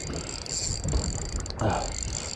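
A sea fishing reel's clutch ticks in a fast ratcheting run as a hooked fish pulls line off on a UK reef, close and fairly loud over wind and water noise.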